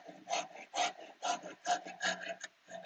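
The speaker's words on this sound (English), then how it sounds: "I'm really letting that rasp cut in and trying to find some corners for me" Wood rasp cutting into a three-dimensional wood carving, close by, in about seven steady rasping strokes evenly spaced roughly every half second, each a gritty scrape with brief pauses between.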